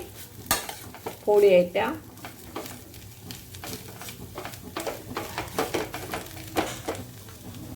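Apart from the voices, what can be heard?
mashing boiled potatoes with a spoon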